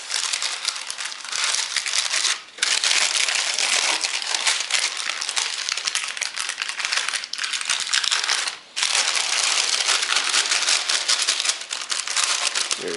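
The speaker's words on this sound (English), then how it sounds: "just peel the paper off" Paper is peeled steadily off a slab of homemade creamy caramels turned out onto a cutting board, giving a loud, continuous close crinkling and tearing rustle with two brief pauses.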